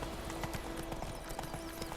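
Horse hooves clip-clop at a steady walking rhythm in the video game The Witcher 3: Wild Hunt, faint and low beneath a soft background hum.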